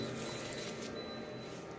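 A copier machine running while making a copy, a steady loud mechanical whir and hum with no breaks, heard up close.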